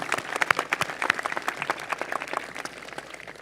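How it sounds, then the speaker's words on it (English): Applause from a graduation audience of families and teachers, with scattered individual claps standing out from a softer, moderately distant crowd that gradually thins. "your families and teachers should receive a well-deserved round of applause"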